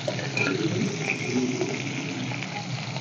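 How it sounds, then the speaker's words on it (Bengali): Shrimp dropped into hot mustard oil sizzle and crackle steadily in a pan, a dense close frying hiss holding at an even level without pause. "তেল গরম হয়ে গেছে, এর মধ্যে দিয়ে দিব এই যে চিংড়ি মাছগুলো"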